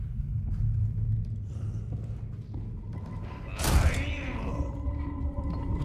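A single loud gunshot burst rings out midway through a tense Resident Evil 4 remake scene, over a steady low rumble of in-game ambience.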